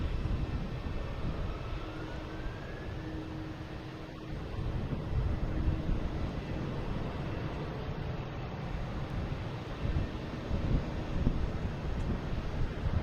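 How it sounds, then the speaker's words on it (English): A JetBlue Airbus A321 takes off from runway 4 Right at Boston Logan, its engines a low, distant broadband roar that swells gradually over several seconds, with wind buffeting the microphone throughout. "All right, 4 right, clear for takeoff. It is a JetBlue heading to Seattle."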